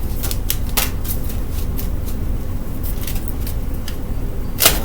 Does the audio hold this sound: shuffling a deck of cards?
yes